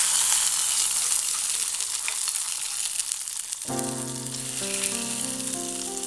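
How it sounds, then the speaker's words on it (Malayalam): A mustard seed tempering is added to a Kerala-style raw tomato curry and sizzles with a steady bright hiss throughout. A sustained tonal hum rises midway under the frying. "ഇനി ഈ വറുത്ത് വെച്ചേക്കുന്നത് ഇതിലേക്ക് ഇട്ട് കൊടുക്കാം."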